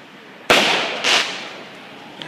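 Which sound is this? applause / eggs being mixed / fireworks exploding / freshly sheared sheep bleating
fireworks exploding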